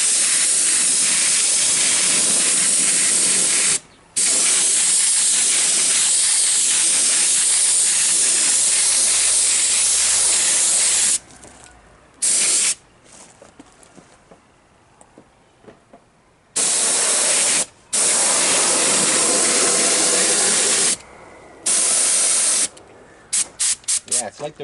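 Spray gun applying tooling gel coat to a quarter scale truck body, a loud steady hiss in long bursts with a few short pauses and quiet gaps between passes.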